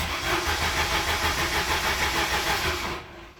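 An old Jeep engine cranks on starting fluid without catching, the starter churning in a steady rhythmic pulse for about three seconds before stopping abruptly.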